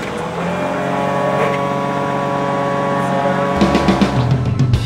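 A JCB 435S agricultural loader's heavy diesel engine runs steadily at close range with a deep rumbling drone, rising slightly in intensity near the end.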